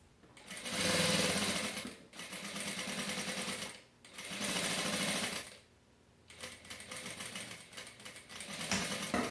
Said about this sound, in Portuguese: eu vou, então, abraçar a borda da telinha vôlei e vou costurar esse viés